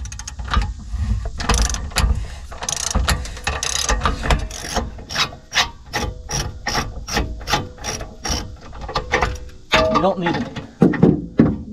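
A B&W RV lifting device dropped into a fifth-wheel hitch clatters and ratchets as its hook is unlatched and lifted, a loud sequence of rapid metallic clicks and clunks close by.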